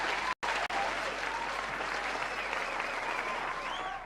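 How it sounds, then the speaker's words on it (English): A large audience breaks into loud, sustained applause, continuous clapping with a brief cut near the start, and no voices stand out over it. "Can he get a round of applause?"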